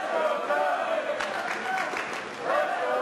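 A crowd cheering at a high school wrestling match, a steady roar of voices with a swell of louder shouts partway through, under an announcer talking.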